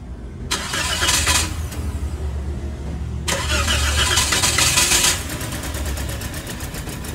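A Toyota Vios with a dual VVT-i engine, just overhauled, cranks and starts close by, then runs with a loud, steady idle, broken by a brief second crank-like surge partway through.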